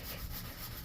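A builder-grade stainless steel sink being wet-sanded by hand with coarse-grit sandpaper, a continuous close rubbing hiss with no pauses and no talk.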